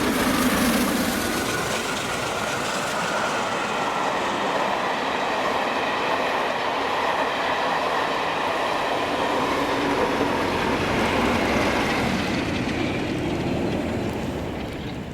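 A West Coast Railway charter train led by locomotive 6163 passes at Cartland, a steady loud rumble of wheels and rolling stock with rhythmic clatter, sustained throughout and fading slightly at the end.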